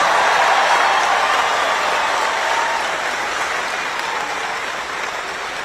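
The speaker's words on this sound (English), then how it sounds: "How about we give them a great round of applause?" A large crowd at an LSU baseball national championship celebration applauds for first responders, a loud, dense, continuous roar of clapping that fades slightly over several seconds.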